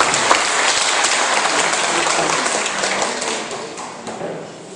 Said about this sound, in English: Can you guys give a big hand for him?